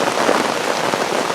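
Steady rain patters onto an umbrella and a muddy hiking trail on a humid day, a dense, continuous hiss of drops close by with no talking.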